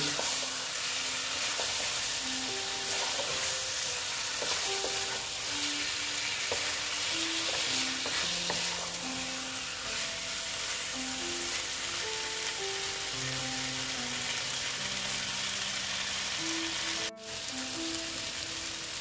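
Eggs sizzle steadily as they are sautéed and stirred in a pan for an egg and potato curry, a continuous close frying hiss with a soft melody playing underneath.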